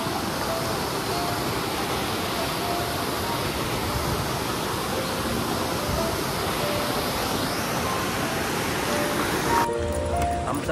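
Rautwadi waterfall near Radhanagari Dam in Kolhapur gives off a steady, broad roar of falling water that stays constant throughout, with a faint voice audible under the rush near the end.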